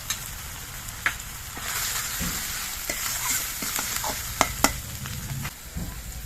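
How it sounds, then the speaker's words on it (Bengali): A ground green and dried chilli paste with cumin and coriander paste fries in a pan for a fish head dish, a close, busy sizzle with brisk stirring scrapes and a few sharp utensil knocks, no talking. "কাঁচা লঙ্কা শুকনো লঙ্কা একসঙ্গে বেটে নেওয়া মশলা দিয়ে দিচ্ছি।"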